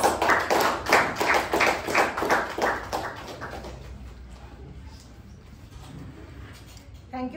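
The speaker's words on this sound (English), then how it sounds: "Please welcome her with a huge round of applause." Applause at a Toastmasters club meeting welcoming the general evaluator: a burst of clapping from a small group that is loud for about three seconds, then thins and fades into quiet room tone.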